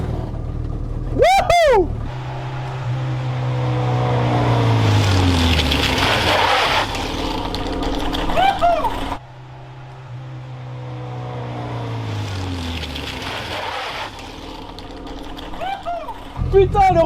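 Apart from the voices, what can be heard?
Renault 4L prototype car driving and braking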